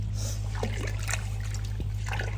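Zobo drink ingredients are stirred in clean water in a pot outdoors, giving soft trickling, sloshing and splashing water sounds over a steady low hum, with no talking.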